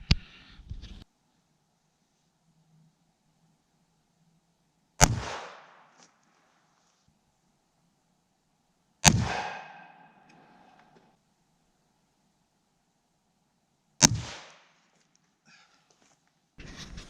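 CCI Stinger .22 rounds fired into ballistic gel, four sharp, loud single gunshots several seconds apart, each decaying quickly into silence.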